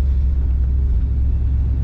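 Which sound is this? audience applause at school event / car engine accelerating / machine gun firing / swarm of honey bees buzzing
car engine accelerating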